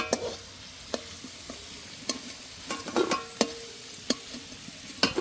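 Potatoes fry in oil in a home kitchen, a low sizzle broken by sharp clinks and scrapes of a spatula stirring the pan at irregular intervals, with no talking.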